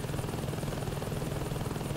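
Constant thudding rotor chop and engine roar of a helicopter in the video game Saints Row 2, loud and steady throughout without any voices.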